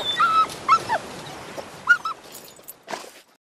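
Dog whimpering in an animated cartoon, a series of short high whines and yips at close range, a few broken cries spread over a few seconds before fading to silence.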